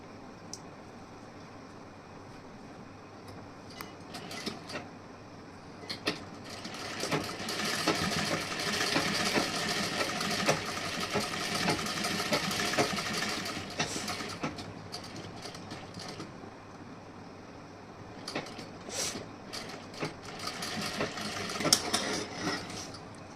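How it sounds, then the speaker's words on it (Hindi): A sewing machine stitching a folded blouse seam, running in bursts of steady mechanical whirring, close and moderately loud, with quieter pauses and handling clicks between runs. "फिर इस पर भी उसी तरीके से स्टिचिंग कर देनी है"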